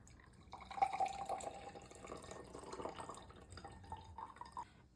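Liquid pours into a glass for a faux pear 75 mocktail, a near, steady trickle with faint drips that swells and fades over a few seconds, with no talking.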